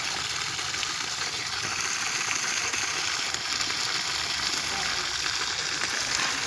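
Water gushes steadily from the outlet of a Sterling 1.5 HP 20-stage submersible pump, a loud, even hiss and splash that runs on without letup.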